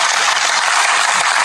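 A burst of applause sound effect played in a podcast studio, loud, dense steady clapping filling the whole moment with no voices over it.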